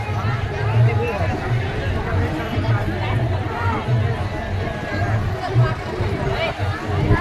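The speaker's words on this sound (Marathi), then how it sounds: "भक्तांची अलोट गर्दी।" A dense crowd of devotees at a temple pilgrimage procession to a saint's samadhi shrine fills the air with continuous, loud, overlapping chatter and hubbub that holds steady throughout.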